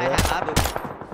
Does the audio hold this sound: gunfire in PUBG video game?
yes